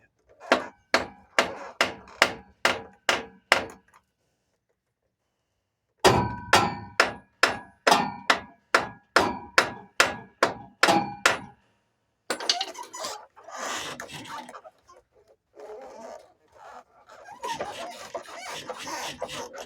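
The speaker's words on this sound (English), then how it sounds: "go ahead and grab your hammer and tap it" Sharp metallic hammer blows strike a Ford Ranger's BW1354 transfer case in two quick, steady runs of about eight and a dozen hits, separated by a pause, then give way to shuffling workshop noise.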